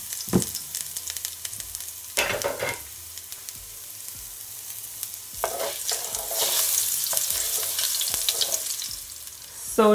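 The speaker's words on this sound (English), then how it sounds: "And you're just gonna allow it to saute, guys, just for a couple of seconds," Garlic sautéing in a pan for a honey stewed salmon dish gives a steady close sizzle, broken by several sharp scraping stirs and clatters, with the frying growing a little louder toward the end; no one speaks.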